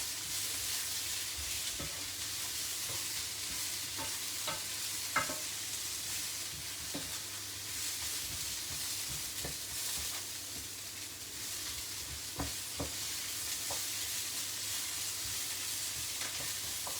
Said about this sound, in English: We're going to pour a little touch of water in there and we're going to put the lid on, and that's just going to help kind of steam